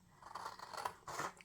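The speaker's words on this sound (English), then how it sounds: "Just coming in with my scissors and" Scissors snip through a card base, giving two close, crunchy cuts with a short pause between them, heard alone on a cardmaking desk.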